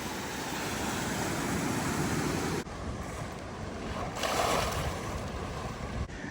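Sea waves surging and splashing up onto a seaside platform where people fish, a steady loud wash of surf with gusty wind noise on the microphone and a brief swell of spray midway.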